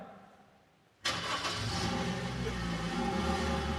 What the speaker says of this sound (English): Go ahead and start that car up.